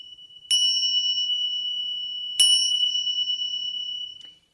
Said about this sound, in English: Those are Tibetan singing bells. They're called tingsha bells.